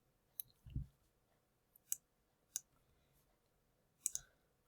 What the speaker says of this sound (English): So I'm using my keyboard shortcut.